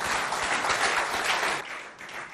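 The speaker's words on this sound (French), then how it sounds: "Applaudissez pour Monsieur André pour ce qu'il a fait." A crowd applauds at a high school competition, dense clapping that stays loud and even before thinning out toward the end.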